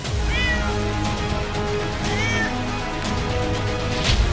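A cat meows twice inside a house, two clear drawn-out cries a couple of seconds apart, heard over a low steady hum of background music.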